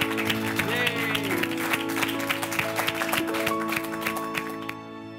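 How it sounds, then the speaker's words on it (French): Applause and clapping patter from a studio audience at a reality-show celebration, continuous and fairly close, mixed under bright music that swells throughout before fading at the end. "Je lève mon verre et surtout, je vous applaudis."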